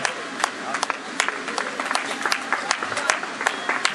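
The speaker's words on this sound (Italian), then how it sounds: "Conclude la gara anche Giovanni Lazzaro, Atletica Città di Padova, applausi anche per lui." Crowd applause for Giovanni Lazzaro of Atletica Città di Padova finishing a running race at Galliera Veneta in 2010, steady scattered clapping under an announcer's voice.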